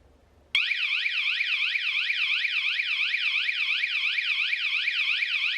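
An EZVIZ A1 wireless home alarm siren suddenly starts, loud and piercing, and keeps sweeping up and down in a rapid, steady warble, close and continuous.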